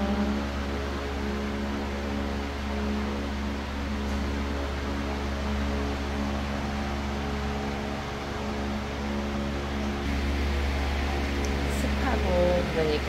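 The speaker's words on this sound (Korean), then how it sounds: "대형 선풍기를 틀어놓으니까 엄청 시끄럽지요" A large electric fan runs in a humid home, giving a loud, steady whirring drone with a constant hum throughout, and faint background movement near the end.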